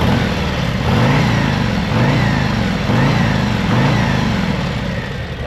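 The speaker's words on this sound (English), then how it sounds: "you just heard the stock exhaust" A 2024 Harley-Davidson Road Glide with stock exhaust rumbles close by, its deep exhaust note rising and falling in slow, repeated surges.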